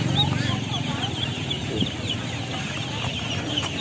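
Chickens cluck at a busy rural poultry and livestock market in Cao Bang, Vietnam, where ducks, chicks and pigs are also sold. The clucking is steady throughout, with crowd bustle and people talking nearby.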